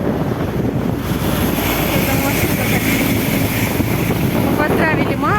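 Wind outdoors in wet, snowy weather roars steadily against the microphone, a constant loud blustery rush that partly masks a voice.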